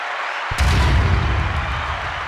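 A gunshot sound effect played in a studio: a loud, sudden crack that rolls into a heavy, booming rumble lasting about two seconds, with no talk over it.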